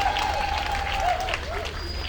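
A conference audience claps together at a victims' association event, a steady, dense wash of applause with crowd noise running throughout.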